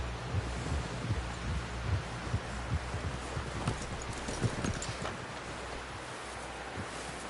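Steady clip-clop of horse hooves trotting in the video game Red Dead Redemption 2, close and fairly loud, over a constant windy rush.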